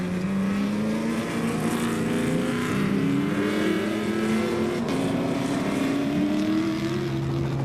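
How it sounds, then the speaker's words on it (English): Castrol Toyota rally race cars approaching during the Gold 400 rally in 2013, a continuous engine drone with rising and shifting pitch as they draw nearer, loud and unbroken throughout. "Back-to-back Castrol Toyotas approaching."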